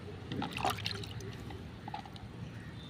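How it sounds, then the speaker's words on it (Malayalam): Ash and turmeric are poured into rice water, giving a brief splashy pour and trickle near the start that fades into quiet. "ഇത് നമ്മൾ അര ലിറ്റർ കഞ്ഞിവെള്ളത്തിലേക്ക് ഒഴിക്കുകയാണ് ചെയ്യുന്നത്"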